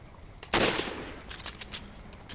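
A single sharp bolt-action rifle shot in Resident Evil 5 cracks out loudly near the start, trailing into a short decaying echo with a few faint metallic clicks after.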